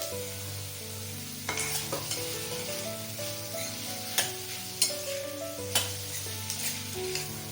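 Elephant foot yam (suran) being sautéed in a pan with a little tamarind and spices, a steady sizzle under repeated stirring and scraping of a spoon against the pan, with a few sharper knocks, no voices.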